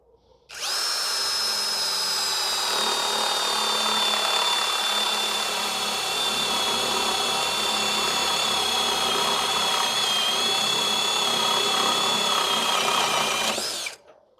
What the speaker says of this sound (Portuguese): Agora vamos utilizar a broca chata aqui de 1 polegada.